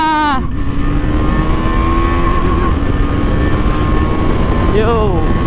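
A KTM Duke 390 motorcycle engine revs hard at full power, a loud rising whine that holds steady and then sweeps again near the end, with someone talking over it at the start.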